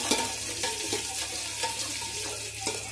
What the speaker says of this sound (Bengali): এখন আমি এর মধ্যে দিয়ে দিচ্ছি গোটা জিরে আর গোটা গরম মশলা